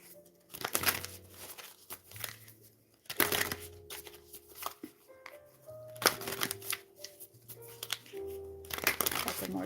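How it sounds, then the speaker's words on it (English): Tarot cards being shuffled in quick riffling bursts, repeated several times with short pauses, close by, with faint musical tones underneath. "Couple more shuffles."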